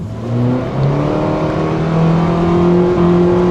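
A car with a CVT gearbox accelerates hard, its engine droning loud and steady with pitch climbing smoothly and continuously rather than stepping through gear changes.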